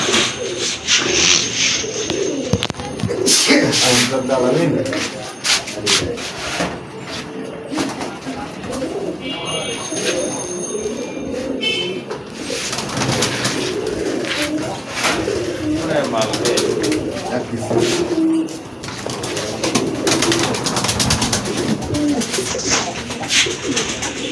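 Bombay pigeons at a market stall, including a big male with a rose crest and pink beak, coo in a low, continuous murmur through a noisy, busy setting, with people talking nearby.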